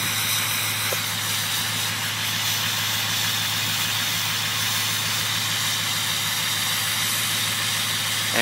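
A Ford Powerstroke 6.0-liter diesel idles after a cold start in freezing weather, a constant close-up rumble with a steady mechanical throb and faint hiss, unbroken from start to finish.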